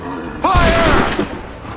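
Cannons fire on command in Assassin's Creed 3, a single booming blast with a brief tonal whine, loud and close, fading over about a second, with a voice mixed in.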